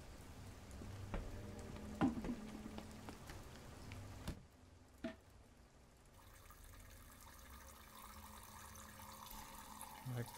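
Gasoline pours steadily in the video game Fears to Fathom, with a gurgling, splashing texture, broken by a few sharp clicks and thumps, then continues more quietly toward the end.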